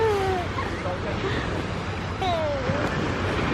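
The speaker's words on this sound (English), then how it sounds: "The waves crashing?" Ocean surf washes steadily onto the sand at Corona del Mar Beach, a constant broadband rush with some wind, and faint voice-like tones drift through it.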